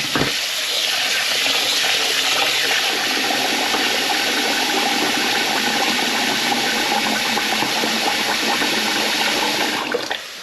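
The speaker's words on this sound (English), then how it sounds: "to rinse it in cold water" Cooked pasta for a chicken pasta salad being rinsed under cold running water, a steady loud rush of water from a tap pouring into a colander or sink, continuous and close.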